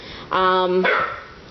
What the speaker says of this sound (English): And that's the dog and my daughter barking.